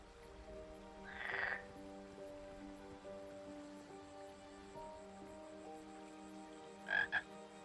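Frogs croaking in the King's Quest video game, two separate croaks, one early and a double croak near the end, over a soft steady musical background.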